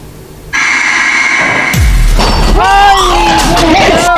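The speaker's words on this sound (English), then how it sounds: "It was the glass fell off." Glass falls off and shatters with a sudden loud crash, followed by ringing, scattering fragments and a rumbling boom, all loud and close.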